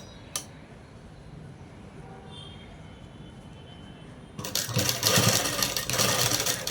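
A sewing machine set to small stitches runs fast and loud, a dense mechanical whirr that starts abruptly after a quieter stretch with a single click.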